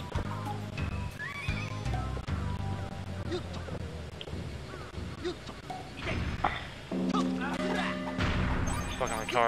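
Horse in the N64 game Goemon's Great Adventure, heard as repeated neighs and whinnies among hoof clip-clops and game effects, fairly loud, with someone talking over it.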